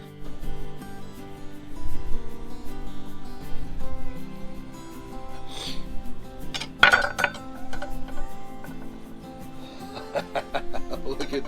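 Knife and fork scrape and clink against a plate while cutting into a Hawaiian-style Spam egg, with scattered sharp metallic taps and light clatter close by and soft background music underneath.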